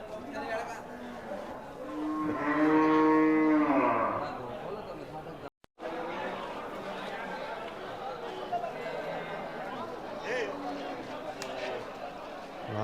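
Cattle and native calves at a busy cattle market in Vaniyambadi, with one loud, drawn-out moo rising over the crowd, amid constant nearby chatter and people talking.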